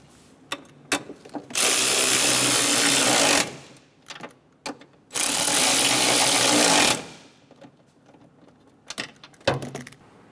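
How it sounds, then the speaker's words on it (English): Master cylinder nuts on a 2003-2007 Honda Accord snugged down with a power tool or ratchet, two sustained loud mechanical whirring bursts, with scattered clicks and clinks of tools around them. "Snug the nuts down."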